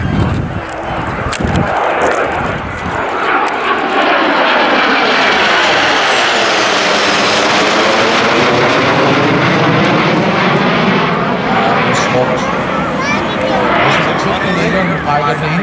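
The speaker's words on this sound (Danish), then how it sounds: "Det er en A330." Airbus A330 jet airliner passing close overhead, a loud continuous engine roar that swells and sweeps downward in pitch as it goes by, with a person talking over it.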